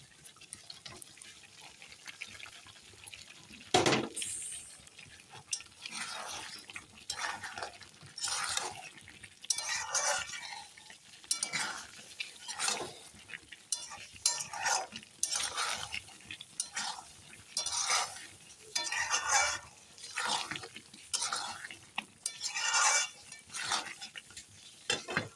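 Meat and fried potatoes being stirred in a pot while cooking a simple Bengali meat curry with ground spices: repeated scraping and clattering strokes at a steady rhythm, close by, with a sharp knock near the start and no talking.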